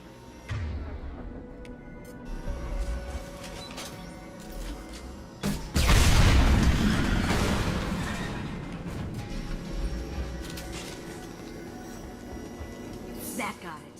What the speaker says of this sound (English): Take heavier weapons than that to blow those tanks.